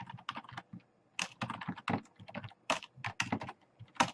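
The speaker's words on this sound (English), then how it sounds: "I've got to focus on what I'm typing." Quick, uneven bursts of keys clack on a computer keyboard, close and fairly quiet, with short pauses between runs of typing and no voices.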